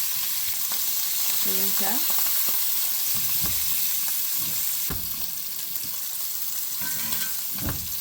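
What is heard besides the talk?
butter, rosemary and garlic sizzling in a pan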